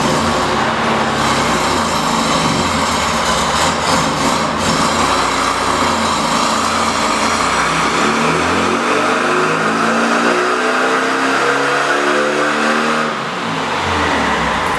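A VW Beetle engine with ignition timing advanced to 26 degrees runs hard on a dyno, a loud, sustained, buzzing high-rev wail that holds steady for many seconds before the pitch sags and the revs wind down near the end.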